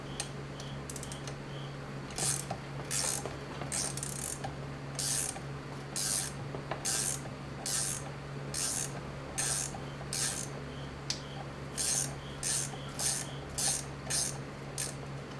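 A 1929 Harley-Davidson JD transmission turned by hand, giving repeated bursts of close mechanical clicking and ratcheting in an irregular rhythm over a low steady hum.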